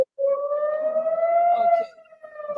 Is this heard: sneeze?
no